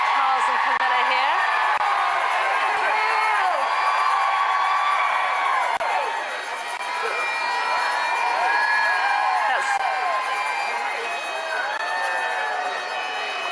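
Crowd cheering as royal family members arrive at a wedding: sustained roar of many voices with whoops and rising shouts, swelling and dipping in waves over about fourteen seconds.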